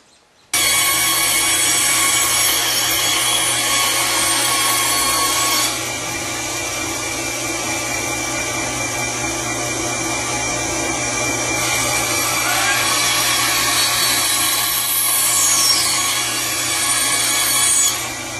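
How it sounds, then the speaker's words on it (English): A bandsaw cuts the corners off a block of wood stock, a loud continuous rasping hum with tonal whine that shifts slightly as the blade feeds through the wood, running steadily for the whole stretch. "the next thing I'm going to do is take off these corners with a bandsaw"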